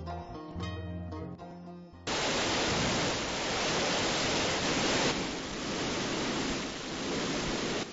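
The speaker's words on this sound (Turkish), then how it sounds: "Ulubey'in Otamış köyünde bulunan bu nazlı şelale 22 metrelik yüksekliğiyle en yüksek şelalemizdir" A 22-metre waterfall in Otamış village, Ulubey, Ordu, pours as a loud, steady broadband roar of falling water, following a brief stretch of music at the start.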